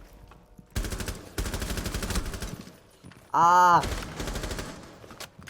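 Gunfire in the video game Rainbow Six Siege: bursts of rapid automatic shots in several volleys, with one louder distorted blast near the end, while a player talks over the action.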